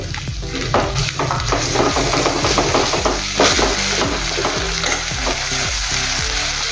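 Chopped onion with ginger-garlic paste frying in a pan for a masoor tuvar dal, a steady close sizzle with stirring scrapes and spoon knocks running throughout, no voices.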